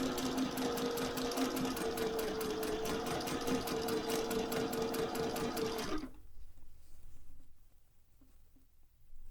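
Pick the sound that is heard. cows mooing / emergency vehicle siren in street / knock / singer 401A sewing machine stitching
singer 401A sewing machine stitching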